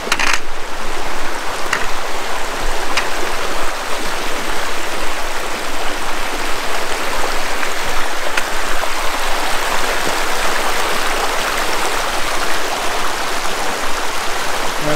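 Mountain creek water, Little Elk Creek, runs over rocks at low flow in a steady, unbroken rush that stays close and even throughout, with no voices.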